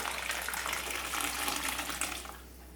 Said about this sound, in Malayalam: ഇനി ഇതിലേക്ക് നല്ല തിളച്ച വെള്ളം ഞാൻ ഒഴിച്ചു കൊടുക്കണം.